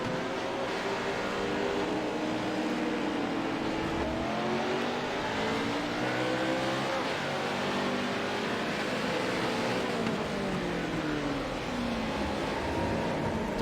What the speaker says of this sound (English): Hearing him goose his engine right there.